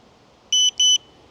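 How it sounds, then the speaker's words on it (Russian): Electric bike security alarm giving two short, loud, high electronic beeps in quick succession over a quiet background. "Там зажимаешь, он включается типа того, что на охрану, и когда ты его котишь, он начинает пипикать."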